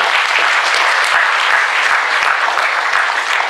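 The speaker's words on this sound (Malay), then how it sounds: "kita berikan tepukan guru dulu kepada ketiga-tiga ahli kita" Loud, close applause from an audience at a Malaysian education colloquium, honoring three panel members, dense continuous clapping that stays level from start to finish.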